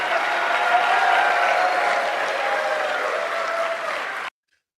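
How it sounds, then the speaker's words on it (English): A large audience at a political speech claps in a sustained, even wash of applause, moderately loud, until it cuts off abruptly near the end. "It's just clapping"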